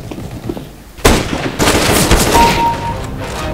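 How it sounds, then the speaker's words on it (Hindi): Automatic gunfire from a Counter-Strike deathmatch round in an Italy map bursts in suddenly after a quiet start, a loud, dense, sustained rattle of shots that continues to the end. "इसने तो फायर किया मुझे"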